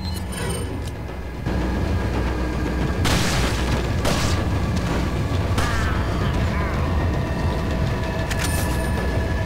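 An explosion goes off in the video game Resident Evil 4, a loud booming blast with rumbling debris that fills the scene, joined by further heavy crashes while game sounds continue throughout.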